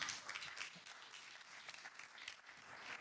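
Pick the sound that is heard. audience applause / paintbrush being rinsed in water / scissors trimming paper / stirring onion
audience applause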